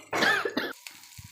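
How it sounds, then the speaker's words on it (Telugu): A single harsh cough followed by a short throat-clearing sound comes from a person cooking at home over a high flame, close and fairly loud, and then trails off into quiet kitchen background. "అందుకే దగ్గు వచ్చేసింది."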